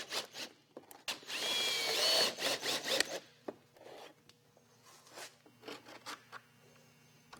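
Power drill driving stitch screws into tabbed metal corners of chimney cap flashing, a loud whirring burst followed by several shorter grinding spurts and clicks close by.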